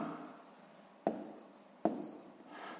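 A math answer is handwritten on paper, with two sharp taps of the pen and then soft scratchy strokes in a quiet room.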